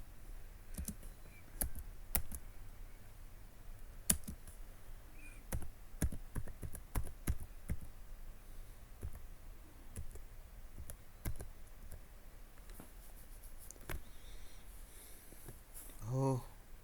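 Sparse, irregular clicks of typing on a computer keyboard in a lab, light and fairly close, scattered across a quiet room with faint background hiss.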